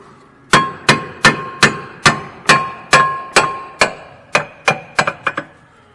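A hammer strikes a metal rear suspension arm on a Kia Optima about a dozen times, each blow a sharp ringing clang, steady at first and then quicker at the end.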